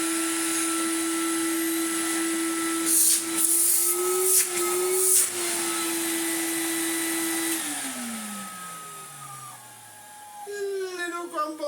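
Numatic BX190 commercial vacuum cleaner with a restored motor, running at a steady loud whine, then switched off and winding down with a falling pitch and a slight grumble, alone with no talking.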